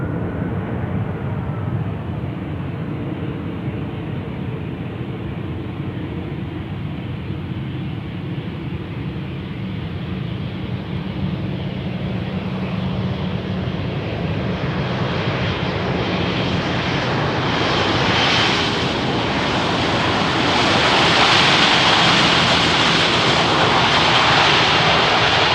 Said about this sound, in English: Here's the EasyJet coming in from Copenhagen.